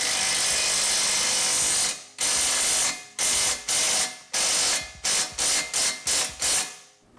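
A hand ratchet tightens suspension bolts on a BMW E9x M3 during a lowering-spring install, clicking close up in about ten bursts that grow shorter and quicker toward the end.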